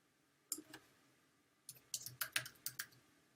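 Computer keyboard keys tapped in two short bursts of quick, light clicks, close and quiet, with a pause between, no voice.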